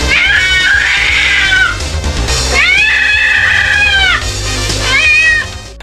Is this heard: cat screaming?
yes